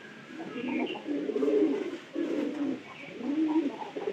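Pigeons coo in low, rolling bursts, several overlapping calls repeating steadily and fairly close, with no talking.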